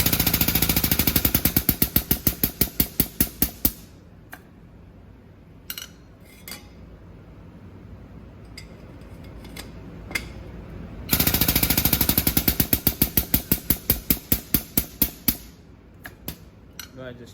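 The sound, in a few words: expander stretching stainless exhaust pipe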